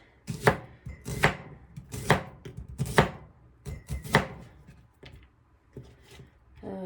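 Onions are being chopped on a cutting board while meal portions for pressure canning are prepared: a run of crisp, close knife strikes falls at an uneven pace, about one per second, and then grows softer and sparser.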